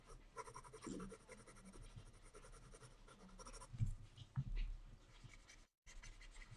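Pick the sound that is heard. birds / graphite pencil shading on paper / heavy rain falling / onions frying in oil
graphite pencil shading on paper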